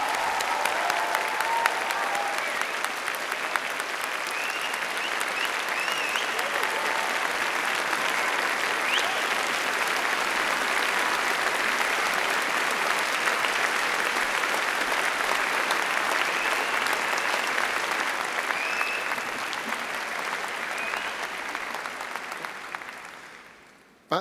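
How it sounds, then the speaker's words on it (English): Long, loud, sustained applause from a large audience for graduates at a university commemoration ceremony, dense and even for over twenty seconds with occasional cheers, then tapering off quickly at the end. "Please join me in a very large round of applause to the graduates."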